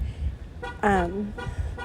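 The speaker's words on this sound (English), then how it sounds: "Now I'm hearing beeping." A short electronic beep tone sounds once amid low background rumble, with soft, brief bursts of noise before and after it.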